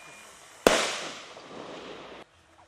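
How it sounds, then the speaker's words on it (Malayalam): A single sharp firecracker burst, set off to drive wild elephants away from a settled area, cracks out and rolls into a hissing, crackling tail for about a second and a half before stopping. "പടക്കം പൊട്ടിച്ച് ആനകൾ ജനവാസ മേഖലയിൽ ഇറങ്ങാതെ തടഞ്ഞു"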